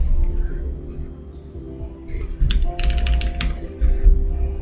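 Keys tapped on a computer keyboard in short, close bursts of clicks over a steady low background hum, with no voices.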